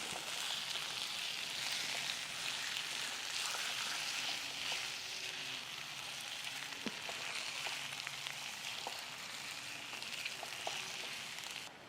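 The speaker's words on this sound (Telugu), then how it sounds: "వేగేలోపు మనకి ఈ ఆనియన్స్ మొత్తం బ్రౌన్ అయిపోతాయి" Onions fry in a pan with a steady, loud hiss and crackle of hot oil that holds unbroken throughout, with only faint clinks from the cooking.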